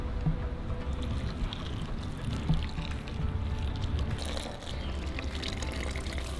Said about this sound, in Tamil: இந்த தண்ணியும் இது கூடவே சேர்த்துக்கலாம்.